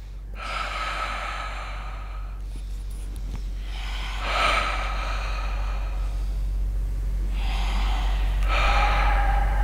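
A person breathes deeply in a slow rhythm, with four or five long audible inhale-exhale breaths spread evenly and close to the microphone over a low steady hum, with no talking.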